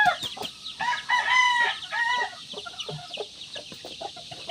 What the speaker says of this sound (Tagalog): So yung mga ibang sisiw natin. Yun. Kasama yung nanay.